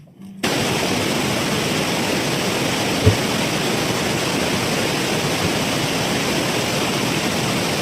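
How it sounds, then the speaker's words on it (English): A courtroom white-noise machine switches on during a bench conference and fills the room with a loud, steady broadband hiss like rushing water, constant and unbroken after a brief quiet start, with one faint thump partway through. "So the judge turns on the white noise and it's loud."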